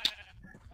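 A single short sheep bleat from the video game Minecraft sounds nearby and fades quickly into a low, quiet background.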